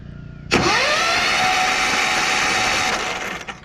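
A riding mower engine cranks without catching, a sudden loud starter whir that holds steady for about three seconds and then fades out, close by.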